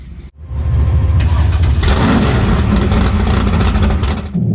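A nitrous-fed 440ci Chevrolet Nova drag car roars loudly and close by, its big engine rumbling, then rising into a harder revving surge that holds before dropping off near the end.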